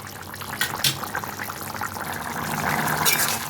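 Egg curry with onions and fried potatoes simmers in a pot of gravy, a soft, continuous bubbling and hiss that swells slightly toward the end, with no voices over it.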